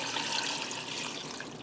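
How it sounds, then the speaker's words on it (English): A steady stream of water pours and splashes into a pot, close by and continuous, with no voices. "I'm probably going to put about 6 cups of water in this"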